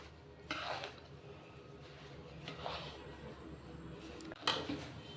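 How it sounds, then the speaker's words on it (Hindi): Sugar being stirred into a roasted panjiri-style mixture in a pan, with a few soft scraping and clinking spoon strokes against the metal under a quiet background. "अच्छे से चीनी को मिला लेते हैं"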